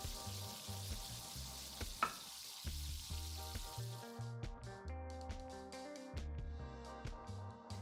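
Malai koftas frying in hot oil, a low, steady sizzle with light stirring and a brief clatter, under background music.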